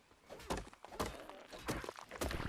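Several hollow, woody thunks land at a steady pace as a hatchet chops at a structure in the video game Ark, each hit short and fairly close, with no talk over them.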